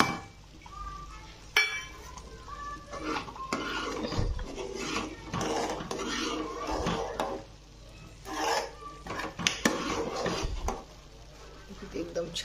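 Spoon stirring ghee-fried chopped dry fruits into rice kheer in a pot, with scattered clinks and scrapes against the metal, some brief knocks, and low talk underneath.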